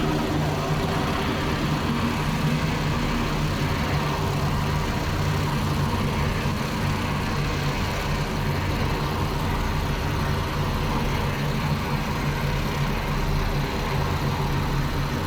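Steady, droning rumble of B-24 Liberator radial engines at idle in the FSX flight simulator, a constant loud low-pitched hum with no letup throughout.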